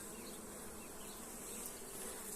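Honey bees swarm an opened hive, their dense, steady buzzing filling the air up close without pause. No voices are heard over the continuous hum.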